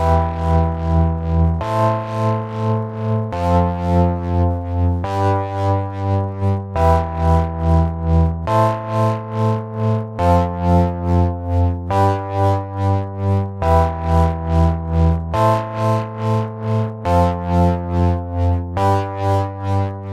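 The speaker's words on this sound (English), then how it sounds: "This creates some wildly panned gated chords." Organ chords through the Ravage distortion plugin pulse in a choppy, gated rhythm, each chord cut into rapid stutters that swing widely between sides, loud and continuous.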